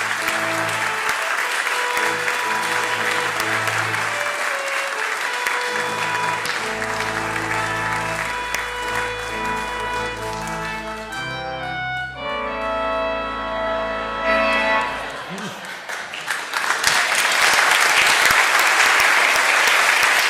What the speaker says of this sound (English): please join me in giving a warm round of applause to Ted Koppel and to Rob